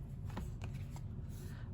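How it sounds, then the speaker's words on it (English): Oracle cards being shuffled and drawn by hand: a few soft, quick riffling flicks and paper slides, close up and quiet, with no talking. "Let's get the last oracle card here."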